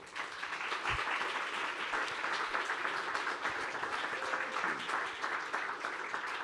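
Sustained audience applause at the close of a business forum in Paris, a dense, even clapping from a sizable crowd that holds steady throughout.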